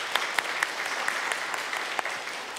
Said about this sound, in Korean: 우리 격려의 박수가 필요한 것 같습니다